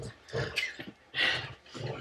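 Dog growling in short, rough bursts during a tug-of-war game, close by, with a few gaps between outbursts and brief human vocal sounds mixed in.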